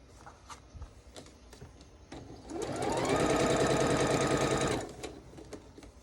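A sewing machine stitches a quilt seam, starting up after scattered soft taps and running as a steady close mechanical whir for about two seconds before stopping.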